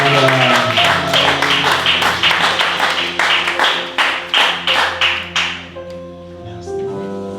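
A Pentecost church congregation claps in steady rhythmic unison, loud and close, with music under it, the clapping fading out near the end as sustained tones carry on.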